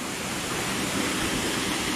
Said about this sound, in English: Here's the second waterfall.